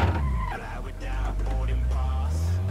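A car drifting in the Assetto Corsa racing game, driven with a large 37 cm Momo steering wheel: a steady engine drone with wavering tire squeal across the clip.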